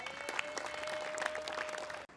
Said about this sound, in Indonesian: Tepuk tangan sekali lagi untuk kanan kiri.